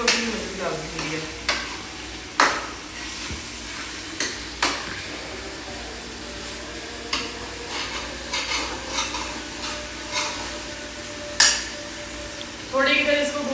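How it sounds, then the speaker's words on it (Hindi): Minced meat keema fries and sizzles in a pan while a utensil stirs and scrapes it in repeated clattering strokes, close and fairly loud, with light metal knocks throughout and no talk. "थोड़ी की देर इसको भूनते हैं"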